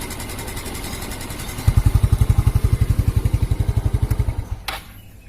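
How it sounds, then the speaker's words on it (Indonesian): A carbureted motorcycle engine idles close by with a rapid, even low thumping that sputters and dies away near the end. "kalau kita biarkan langsam gini, nah sebenarnya itu motor itu halus"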